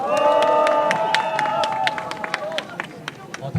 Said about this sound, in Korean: 민주주의 수석회장 원종산 회장님께 다시 한번 큰 박수 부탁드리겠습니다